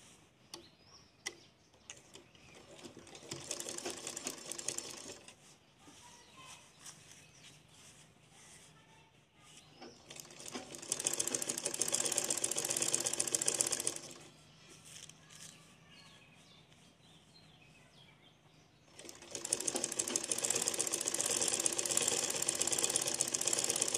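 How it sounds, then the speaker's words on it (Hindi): A sewing machine stitches a designer blouse in three runs of steady, rapid mechanical whirring, the last two longest and loudest, separated by quieter pauses with soft handling noises. "इसको पलटाकर इस तरफ से सिलाई लगाते हैं।"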